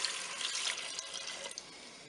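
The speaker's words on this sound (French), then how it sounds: "Maintenant, je vais verser mon bouillon" Broth poured into a Cookeo electric pressure cooker while making duck paupiettes in red wine sauce, a steady splashing liquid stream lasting about two seconds, fairly close and alone without talk.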